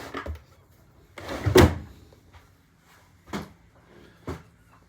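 Drawers sliding open and shut at a chart desk aboard a Philips 50 motor yacht, a loud close bump followed by two quieter clunks, alone in a quiet cabin.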